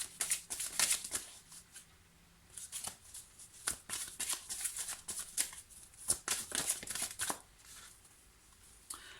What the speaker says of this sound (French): Je vais quand même sortir une carte ou deux de l'oracle coup de cœur pour voir.